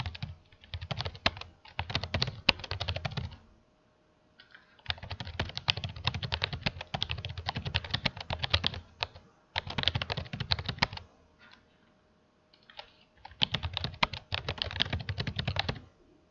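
Bursts of rapid typing on a computer keyboard, several seconds long and separated by short pauses, with close, crisp key clicks and no voices.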